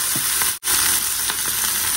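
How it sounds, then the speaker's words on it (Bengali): Shrimp frying in hot oil in a home kitchen, a loud continuous sizzle close to the mic, with a brief dropout partway through. "এখন হচ্ছে এই তেলের মধ্যেই না চিংড়িগুলা দিয়ে দিব"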